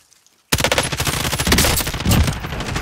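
Sudden bursts of rapid automatic gunfire from M13 and MP5 rifles in a video game firefight, loud, close and sustained after a brief silence, with no talking.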